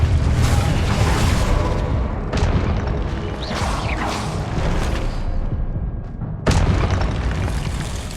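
Loud, dense spell blasts from Confringo in Hogwarts Legacy, a heavy booming rumble with repeated whooshing bursts, one sharp explosive hit standing out near the end.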